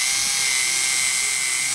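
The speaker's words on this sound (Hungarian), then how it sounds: "Fúrni fogunk egy lyukat a stabilitás kedvéért" Power drill boring a hole through a wooden broom handle, a loud steady high-pitched whine running unbroken and close throughout, with no talking.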